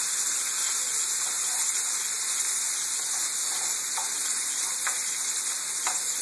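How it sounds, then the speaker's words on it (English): Bacon sizzles and spits in a hot pan for twice baked potatoes, a steady close frying hiss with scattered small pops throughout, no talking. "Gotta check on the bacon. Oh, you hear that? Look at that sizzling."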